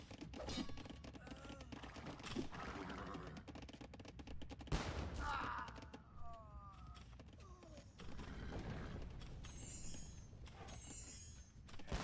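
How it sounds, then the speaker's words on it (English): Organ guns firing in Age of Empires, a rapid burst of mechanical gunfire thuds mixed with battle noise and unit sounds, under game commentary. "organ guns are here to clear up the raid"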